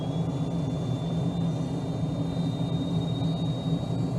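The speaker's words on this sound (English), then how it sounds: "We're going to reduce the hover and go for a takeoff." An F-35B fighter jet in Microsoft Flight Simulator 2020 roars steadily through a takeoff from hover, a dense continuous engine rumble with a thin high whine, loud and unbroken.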